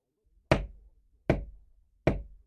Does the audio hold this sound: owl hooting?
no